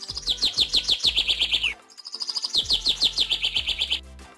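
Bird chirping sound effect preset from a StudioApp animal sounds library: two bursts of rapid, bright repeated chirps and tweets, loud and close, separated by a brief gap.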